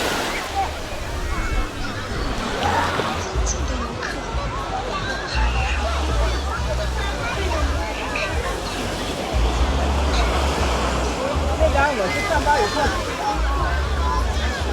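Surf of the South China Sea at crowded Dadonghai beach on Hainan, a steady wash of waves with a broad crowd babble of bathers throughout, loud and continuous.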